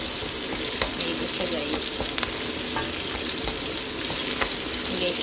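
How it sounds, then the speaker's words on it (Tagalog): Food being stirred in a hot frying pan while cooking chop suey, with a steady loud sizzle and scraping utensil clinks throughout and a brief spoken word. "Naikot yung aking kawali."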